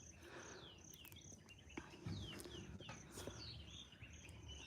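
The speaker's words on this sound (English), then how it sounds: "You can hear the birds singing." Birds chirp and whistle in quick repeated calls outdoors by an off-grid mud-brick round house in a food forest, with a constant insect buzz underneath; calls are faint and scattered at a moderate distance.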